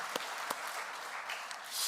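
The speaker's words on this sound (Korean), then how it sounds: "하나님께 감사의 박수 올려드렸으면 좋겠습니다" A church congregation at a joint youth dedication service claps in a brief, steady burst of applause, fairly faint and even throughout.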